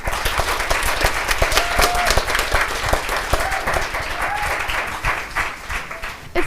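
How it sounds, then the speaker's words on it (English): Audience applause for a conservation group at an exhibition, dense steady clapping from a crowd that holds at full strength throughout, with a few whistles rising above it. "Give the conservation group a round of applause."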